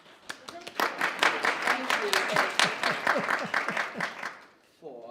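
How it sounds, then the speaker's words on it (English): An audience at a school board meeting claps in a loud, brisk burst of many hands, with a voice speaking over it, before the applause dies away near the end. "So please put your hands together. Clap."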